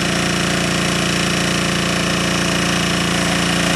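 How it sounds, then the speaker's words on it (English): A wood-gas converted generator running on propane idles steadily, its engine a close, constant loud mechanical chug with a dense rattling drone and no talk over it. "I don't think the generator idles as good running this propane as it did with wood gas."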